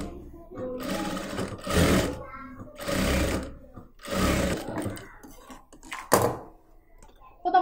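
Close sewing machine stitching a churidar cross piece in repeated bursts of fast mechanical whirring separated by short pauses, with a few handling thumps between runs.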